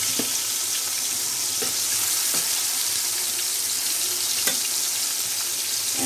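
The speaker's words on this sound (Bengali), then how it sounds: "আপনারা দেখতে থাকেন আমার মাছ ভাজাটা হোক" Pieces of rui fish fry in hot oil, giving a steady broadband sizzle for the whole stretch, with a few soft clicks and pops and no talk.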